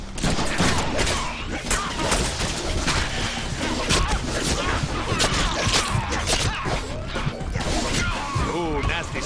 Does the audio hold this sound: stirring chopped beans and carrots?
no